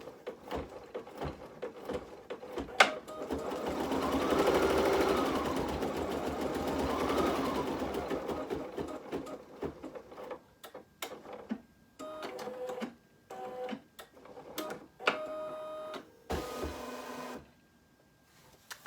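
An embroidery machine stitches out a small bird's beak, running in a steady mechanical whir with rhythmic needle pulses, then breaking into short stop-start bursts and clicks before falling quiet.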